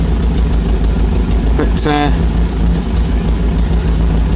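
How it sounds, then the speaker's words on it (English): A small engine idles steadily and loudly up close, its low rumble wavering slightly as the revs hunt, while someone speaks briefly over it. "it seems to have a mind of its own with the yeah, she's hunting a little bit"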